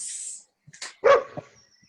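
A dog gives a couple of short, sharp barks at close range during a scent work training class, separated by brief quiet gaps, with a faint rustle before them.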